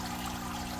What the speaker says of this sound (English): Water's coming in here. Water's going out through here.